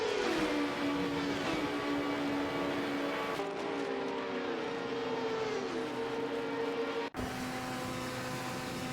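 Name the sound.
race car engines in an AI racing simulator video game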